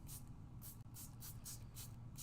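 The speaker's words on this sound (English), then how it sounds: "So the pearl spray, again, we're gonna spray it kind of" Pearl spray misted onto water reactive paper, a series of soft, quick hissing spray bursts in a loose, fairly regular rhythm, faint and close.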